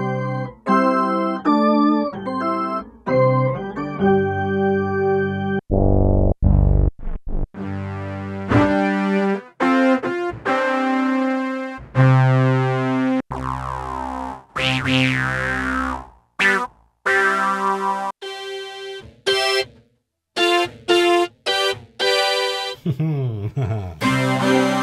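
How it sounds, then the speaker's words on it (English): Organ tones played through a BOSS SY-200 guitar synthesizer pedal, a series of sustained chords and short stabs with pauses between them, some swelling or bending, loud and close with no talking. "it was all about the organ tones"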